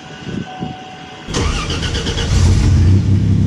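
A Pontiac GTO engine with a freshly repaired exhaust manifold cranks and fires up, settling into a loud, close, rumbling idle that grows slightly stronger toward the end.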